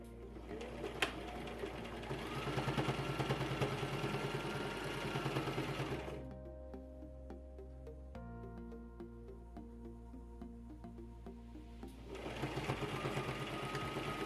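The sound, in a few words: sewing machine stitching edge of polo shirt placket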